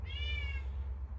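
House cat giving a single drawn-out meow at moderate distance over a steady low background hum.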